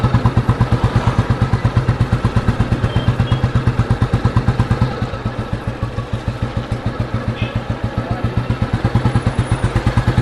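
A 1992 Royal Enfield Bullet thumps along in top gear at low speed, its single-cylinder exhaust beating in a loud, steady, even rhythm from close by, with no talking.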